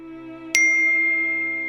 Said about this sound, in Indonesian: Notifikasi ini kan selalu ada.